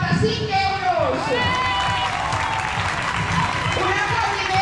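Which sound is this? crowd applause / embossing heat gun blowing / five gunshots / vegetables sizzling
crowd applause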